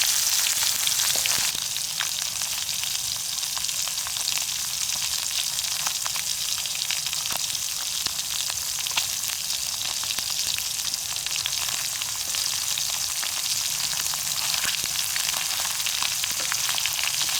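Small sepat paddy fish sizzle steadily in hot oil in an outdoor garden kitchen, a loud continuous crackling fry with scattered pops running unbroken and alone throughout.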